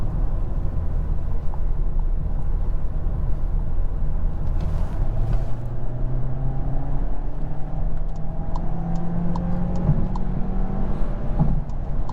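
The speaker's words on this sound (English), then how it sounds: "You can hear a slight blow off." The turbocharged engine of a 2022 Volkswagen Taos SEL 4Motion drones steadily, its pitch slowly rising, with a faint whoosh of turbo blow-off barely audible beneath the road noise.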